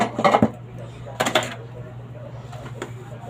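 Dishes and plates are being washed, giving a few sharp clinks and clatters over a steady low hum, with brief bits of voice.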